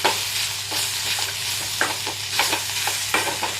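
Ivy gourd (kovakkai) fries in oil with chilli powder under a steady close sizzle while a spoon stirs it in repeated scraping strokes, about eight irregular bursts over a few seconds.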